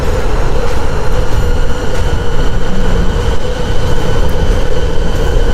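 Backfire Zealot belt-drive electric skateboard running at top speed in turbo mode, a loud, steady roar of wheels and motor with continuous road rumble throughout, no voices.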